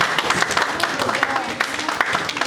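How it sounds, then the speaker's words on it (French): Church congregation applauding in praise, a brief burst of dense, lively clapping from many hands with a voice speaking over it. "Acclamons le Seigneur."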